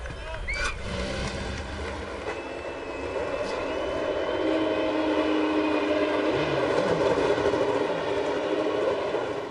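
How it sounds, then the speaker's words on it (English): Several IndyCar race cars start up on the grid at the 2005 St. Petersburg Honda Grand Prix, street course; a steady, loud mass of engine drone and rumble builds and holds throughout, with announcer commentary over it. "Indy's Car Series drivers, start your engines!"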